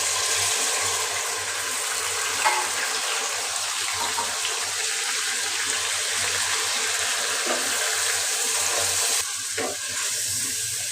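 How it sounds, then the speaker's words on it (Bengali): Water poured into a pot of spice mixture with bay leaf, chili, cumin and pepper powder while cooking khichuri, a steady hiss and sizzle with faint stirring, continuous for about eleven seconds. "এখন একটু পানি দিয়ে দেবো"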